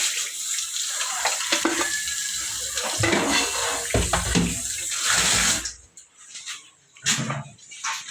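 Strong, steady rush of water pours from a kitchen sink faucet fed by a newly installed 42-gallon tank and 1 hp pump, loud and close for several seconds before the flow cuts off and a few brief splashes follow.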